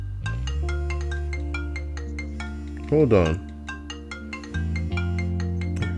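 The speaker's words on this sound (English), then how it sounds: "Why won't the phone shut up?" A phone ringtone plays as a repeating electronic melody of bright tones, fairly loud and continuous, with a person briefly speaking partway through.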